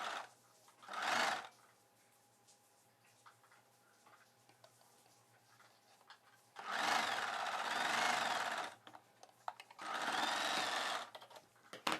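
A sewing machine stitches blouse cloth in three bursts of rapid mechanical whirring, a short one early on and two longer runs later, separated by quiet pauses with faint handling noise.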